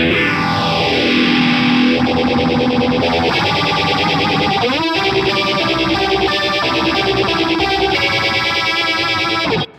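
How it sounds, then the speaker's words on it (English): A distorted electric guitar in a Tom Morello style rig runs through a phaser whose sweep speed changes sharply, the tone swooshing slowly and then faster, with a brief scrape near the middle, loud and unaccompanied by speech. "Then we've got a phaser as well, and the speed on this varies dramatically"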